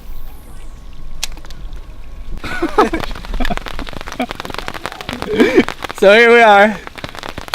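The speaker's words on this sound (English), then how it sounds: "Well, we got some rain, folks." Rain pattering steadily on a fishing boat with a bimini top at Goldwater Lake in Prescott, Arizona, a dense crackling hiss of drops under a voice, with a brief wavering whistle-like tone near the end.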